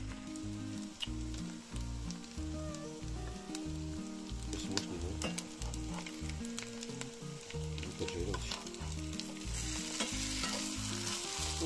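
Fish cutlets made from canned fish fry in plenty of oil, giving a loud continuous sizzle and crackle with a rhythmic stirring or scraping pulse running underneath throughout.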